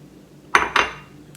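An egg cracked into a food processor bowl for homemade banana walnut bread batter: two sharp, close clinks in quick succession, then a faint third tap in a quiet kitchen.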